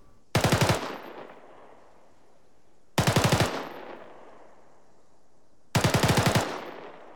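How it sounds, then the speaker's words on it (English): Three long bursts of automatic gunfire, each a rapid continuous rattle lasting about half a second, separated by pauses and followed by echoing decay. "And a cyclic rate of fire will sound like this."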